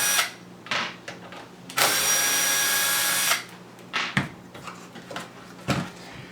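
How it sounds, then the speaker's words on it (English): Phillips screwdriver backing out four screws on a car audio booster unit, giving a run of close, bright mechanical ratcheting and grinding bursts, one long steady stretch in the middle, with short pauses between turns. "get a Phillips screwdriver, remove these 4 screws"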